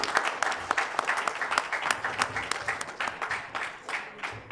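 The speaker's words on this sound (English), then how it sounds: "we can all clap for ourselves for a long and healthy partnership" Sustained applause fills a hall at a corporate MoU signing for a healthcare partnership, many hands clapping steadily in a dense, even patter at a moderate level, with no speech over it.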